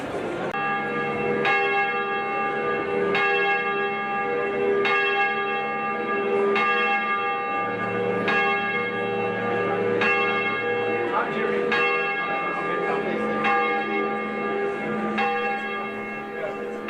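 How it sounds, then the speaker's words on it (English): Church bell at St. James ringing to mark the start of a Founders Day service for a high school in Graaff-Reinet, clear evenly spaced strikes with ringing overtones, about ten tolls at a steady rhythm. "And there goes the bell, marking the start of the service."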